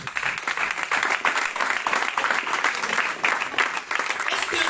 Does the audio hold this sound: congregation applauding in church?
yes